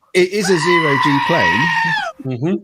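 A loud, wavering goat bleat plays as a sound effect, one long quavering cry followed by a short second bleat, with a voice speaking briefly beneath it.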